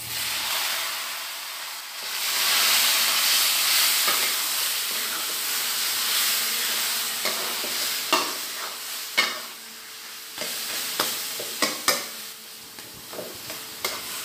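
Leafy greens hitting hot oil tempered with dried chili, garlic and chopped onion, giving a loud steady sizzle and hiss, then stirring with sharp scrapes and clinks of a utensil against the pan.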